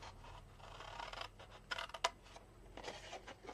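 Quiet snipping and scraping as card is cut by hand for a step block card, soft rustles building to a few sharp little cuts at close range.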